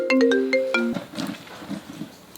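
A phone plays a short melodic ringtone for an incoming call, a quick run of bright clear notes that stops after about a second and leaves faint room noise.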